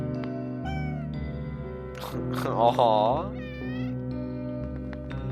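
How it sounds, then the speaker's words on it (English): Cartoonish cat meows from the video game OneShot, several rising and falling calls in a row, one louder drawn-out cry in the middle, set over steady game music with a voice speaking briefly. "there's like a bunch of cats surrounding it"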